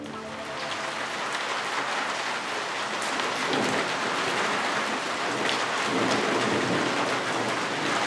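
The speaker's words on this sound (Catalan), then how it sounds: "unes imatges que ens arribaven esta vesprada de les tronades de la pluja amb certa intensitat que caïa a l'interior de València" Heavy thunderstorm rain pours steadily in inland Valencia, around Caudete de las Fuentes, a dense, loud hiss of drops on surfaces with low rumbling thunder swelling beneath it throughout.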